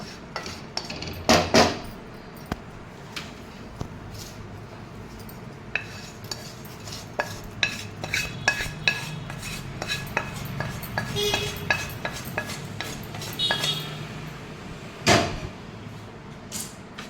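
Lightly roasted spices scraped and tipped from a pan onto a plate, heard as a run of close metallic scrapes, clinks and taps of spoon on cookware with a couple of louder knocks, no speech.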